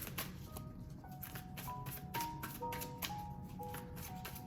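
Oracle cards being shuffled by hand during a divination reading, a steady run of soft papery riffles and taps lasting several seconds, close and moderately quiet, with faint tones ringing underneath and no talk.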